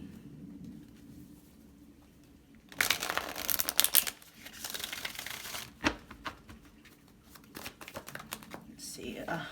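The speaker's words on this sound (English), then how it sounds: "let's get one more shuffle." Tarot cards are shuffled in quick riffling bursts with papery crackles, separated by quieter pauses with faint background noise.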